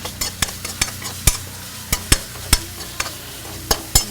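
Cup biryani is added to a pan and stirred, giving a sizzling fry with a series of sharp, regular clacks from the spoon hitting the pan, about two each second, loud and close.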